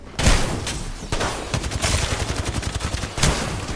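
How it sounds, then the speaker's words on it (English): Rapid automatic gunfire from an Apex Legends match in Arenas mode, loud bursts of shots with a brief pause partway through, then a final burst. "They're shooting at me."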